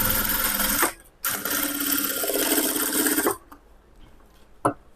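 A sewing machine stitching a lining blouse runs in a loud continuous whir, stops briefly, then runs again for a longer stretch before stopping, followed by a single sharp click near the end.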